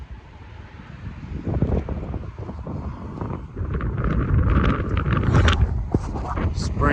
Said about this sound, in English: Little windier.